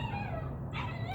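A puppy whimpering, a short thin high whine heard close over a low steady background hum.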